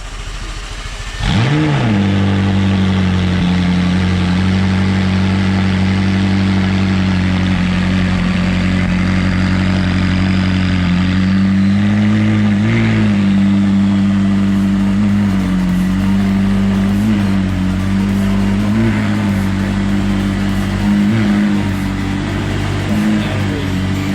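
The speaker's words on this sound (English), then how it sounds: "Cold start." A McLaren sports car engine, Senna or 600LT, fires up on a cold start and settles into a loud, steady high idle with a strong low drone and small rev fluctuations, close by and continuous with no talk.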